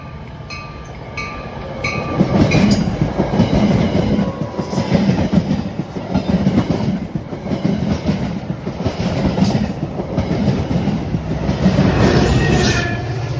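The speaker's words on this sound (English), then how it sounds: "The next inbound train approaching your station will not stop." An inbound train runs through a station without stopping, a loud close rumble with rhythmic wheel clatter and a faint high squeal, holding steady for the whole pass.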